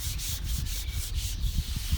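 A pad scrubs an outdoor table in quick back-and-forth strokes, giving a close, rhythmic, abrasive rubbing of about eight passes, with no voices.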